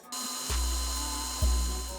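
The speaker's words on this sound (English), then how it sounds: "You will also need to drill 1 hole here for this long bolt to adjust the headlight." A power drill bores a bolt hole for the headlight adjuster while fitting an adventure kit to a Honda CRF450L, its steady motor whine running throughout with two brief surges as the bit bites, close and loud.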